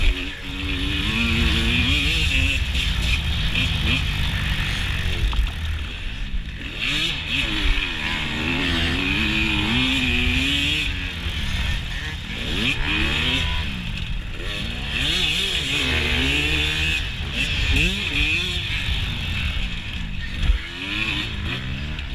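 Dirt bike engine racing in a hare scramble on Portland trails, a continuous close revving whine rising and falling with throttle and gear changes, with a second four-stroke bike nearby.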